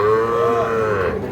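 A Sahiwal bull calf about eight to nine months old at a cattle market gives one loud, close moo with a rising then falling drawn-out tone.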